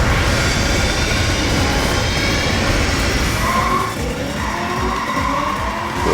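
Car drifting with tires skidding in the arcade racing game Cruis'n Blast, driving a Hummer; a loud, continuous engine roar and tire screech run through the clip with no pauses.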